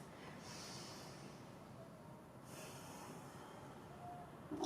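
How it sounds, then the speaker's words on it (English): One slow, deep breath drawn in through the nose during a guided breathing exercise, a soft airy hiss that swells, eases, then rises again near the end, quiet and close. "Get one more deep breath."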